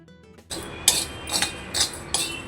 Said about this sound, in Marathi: तांदूळ भाजून झाले की त्याचा फटफट असा आवाज येतो